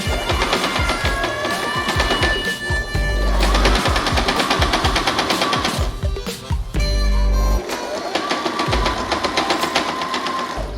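A sewing machine stitches close along the end of a handmade espadrille's tongue, running in a loud, rapid mechanical chatter with brief pauses and changes in pace.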